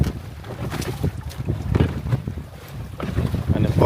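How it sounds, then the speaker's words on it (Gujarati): Strong wind buffets a boat out on Dudhani Lake in Gujarat, roaring and gusting against the microphone in uneven surges, with choppy wave sloshes and faint voices underneath. "અને પવન બહુ વધારે છે ને એટલે વેવ્સ વધારે છે"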